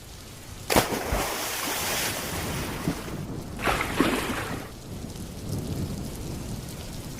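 Heavy rain pouring onto open water around a fishing boat at sea, a dense continuous roar with sharp thunder cracks and rumbles rolling through, no voices.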